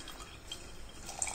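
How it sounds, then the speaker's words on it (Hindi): Water poured over chickpeas in a pressure cooker, a soft continuous splashing trickle with a few bright drips and clinks near the end, close and quiet, with no voices. "छोले के लेवल से थोड़ा सा ऊंचा पानी डालिए"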